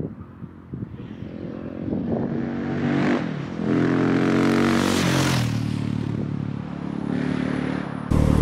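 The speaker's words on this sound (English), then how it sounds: "I've taken both the baffles out, and it's loud, but it's not too obnoxiously loud." A KTM 690 SMCR motorcycle with both exhaust baffles removed rides along narrow country lanes, its loud exhaust swelling and easing as the engine revs up and drops through gears, close and continuous with wind rush.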